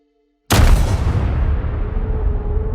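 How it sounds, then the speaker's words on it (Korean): One loud gunshot is fired in a video game duel, a sudden sharp boom out of silence that decays into a long, reverberant rumble. "50대 50의 확률 속에서 발사된 한 발의 총성"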